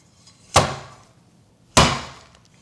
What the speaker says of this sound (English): First, we smash cucumber.